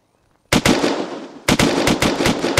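Bursts of automatic gunfire from the video game Unturned, loud and close, with a long rapid volley followed after a short pause by a second run of sharp, rhythmic shots.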